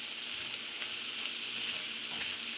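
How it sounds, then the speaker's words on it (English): Shrimp fry with sweet potato and kale in a skillet, giving an even, constant hissing sizzle, close and moderately quiet, with no speech. "So we're just going to let the shrimp cook."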